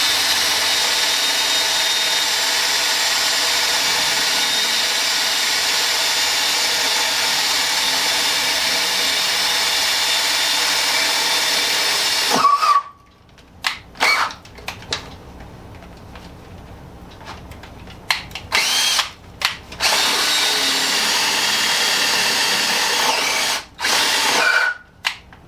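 A power drill bores steadily into wood for about twelve seconds, then stops and restarts in short bursts, followed by another long run; close, loud whine with no talking.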